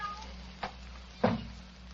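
A cat in an old-time Sherlock Holmes radio drama gives two short meows, a faint one followed by a louder, nearer one, over a low steady hum.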